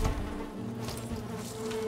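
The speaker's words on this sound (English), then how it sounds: "Beehive right next to it." Bees buzz around a beehive in the video game Valheim, a steady, soft insect drone with a low hum beneath it, faint and continuous with no talking.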